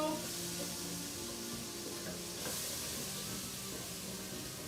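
Shrimp creole ingredients sautéing in a hot pan, giving a steady, bright sizzle with a constant hiss of frying, close and even throughout with no talking.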